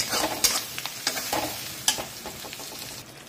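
Masala with tomato for a rohu fish curry is fried and stirred in a pan over a low-medium flame, a continuous close sizzle broken by repeated scraping strokes of the spoon, with no voices.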